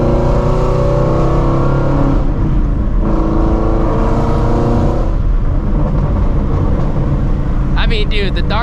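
A Shelby GT350's V8 roars loudly and continuously at close range, the revs rising and falling in sustained surges with a harsh, rumbling exhaust tone throughout.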